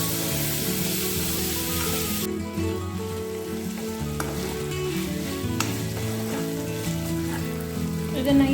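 A bowlful of tomatoes fries loudly in a pan for spinach curry, with a strong sizzle, stirring scrapes, and a low tonal hum underneath throughout.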